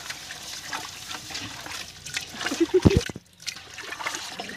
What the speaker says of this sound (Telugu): ఒకసారి కడిగేసుకొని మళ్ళీ ఒకసారి కడుక్కున్నాము. రెండోసారి కడుగుతున్నాను.